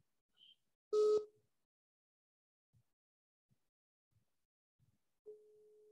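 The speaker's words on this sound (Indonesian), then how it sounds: "Saya telepon ya." Phone call tone during an online class: a single loud electronic beep, a few faint clicks, then a steady tone starting near the end, with quiet gaps between and no speech.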